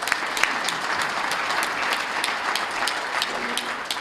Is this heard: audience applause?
yes